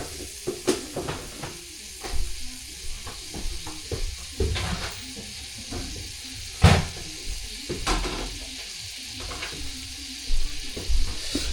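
Rice fries until crispy in a pan, a steady low sizzle broken by frequent scraping and stirring knocks, with a few louder clatters of utensil against pan.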